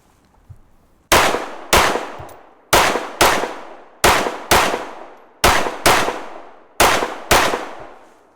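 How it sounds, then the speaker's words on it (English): Smith & Wesson M&P 2.0 Carry Comp handgun fired in controlled pairs, ten sharp, loud shots in five quick doubles, each pair followed by a brief pause, ringing decay after every report. "So we'll go shoot some controlled doubles"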